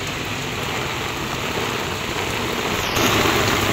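Heavy rain pours steadily outside a house as a dense, unbroken hiss, loud and close, growing slightly heavier toward the end.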